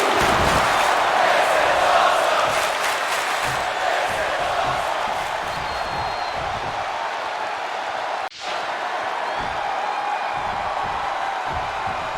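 Home crowd cheering in a WWE 2K20 wrestling game, a steady loud roar of a large arena audience with whoops and shouts, with a brief dip near the end.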